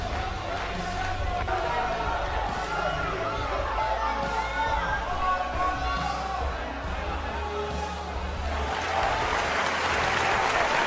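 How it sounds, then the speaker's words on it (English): Crowd applause and cheering in the WWE 2K18 wrestling video game, a steady dense roar of clapping filling the arena, continuous and loud throughout. "Of course, you see the crowd here giving respect to both men, not just Diamante Negro, but also to Max Ha"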